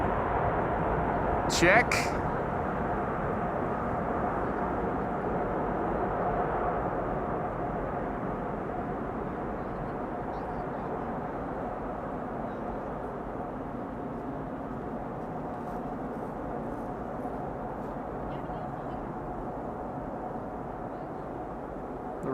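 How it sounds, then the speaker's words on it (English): Airliner thrust reversers spooling down after touchdown at Amsterdam Schiphol, a broad steady roar of jet noise held at a distance for the whole stretch, with a brief voice near the start and light chatter under it. "Right, let's listen for the reversers."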